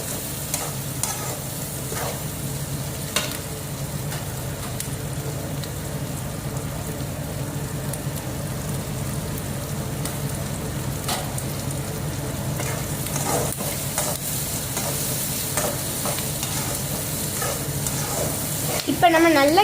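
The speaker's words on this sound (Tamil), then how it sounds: "இப்போ நம்ம நல்லா கிண்டி விட்டுக்கிறோம்" Semolina (rava) roasting in a pan for upma while being stirred, a steady soft dry scraping and faint sizzle running throughout, with a brief louder clatter at the very end.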